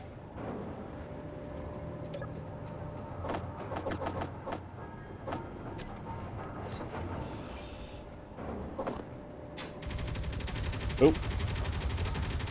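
Gunfire in Space Engineers, a space building game: bursts of rapid mechanical shots and clattering hits over a constant engine-like drone, ending in a dense continuous rattle, with a short spoken exclamation.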